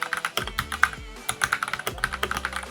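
Typing on an RK Royal Kludge RK98 wireless mechanical keyboard, recorded close up, gives rapid clacking keystrokes in an uneven flurry with a few deeper thocks, no voices.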